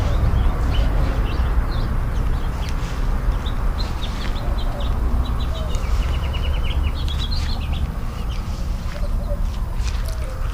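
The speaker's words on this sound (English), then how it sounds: "listen to the birds" Birds chirping and calling in a backyard container garden, scattered tweets and a clucking fowl over a dense, steady outdoor background hiss, moderately loud and continuous.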